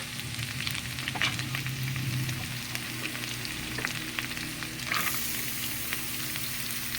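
Butter sizzles and fries steadily in a hot pan while a baked macaroni dish with ham is being cooked; a close, continuous crackling hiss with no talking.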